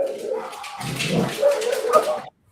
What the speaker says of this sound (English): Oh, there go the dogs.